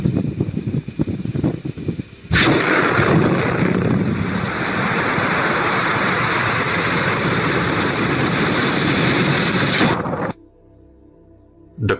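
Sudden loud, sustained roar of a lake gas eruption explosion releasing a carbon dioxide cloud, bursting in after low rumbling, holding steady for about eight seconds, then cutting off to quiet.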